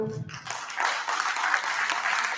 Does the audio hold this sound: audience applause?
yes